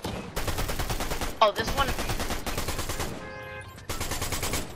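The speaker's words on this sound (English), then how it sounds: "Oh wait, the Iron Warrior Harbinger. Okay, this is another new SMG." The Iron Warrior Harbinger SMG in Fortnite fires in fast, loud automatic bursts, several stretches of rapid shots broken by short pauses, with a brief spoken remark over the shooting.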